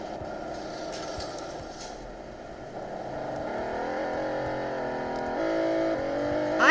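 A car engine in a Roblox game hums steadily and then rises in pitch as it accelerates through gear-like steps, growing louder toward the end.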